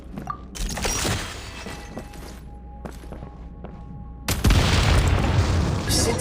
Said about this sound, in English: Shoot the explosives to detonate them and clear the path.